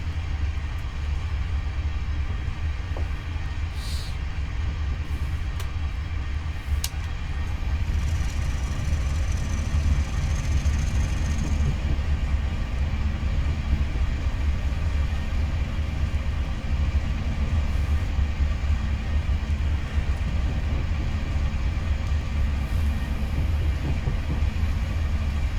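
A Class 50 diesel locomotive in a train simulator game thrashes through the countryside on the Settle line, a steady loud engine rumble with rail noise that runs alone throughout.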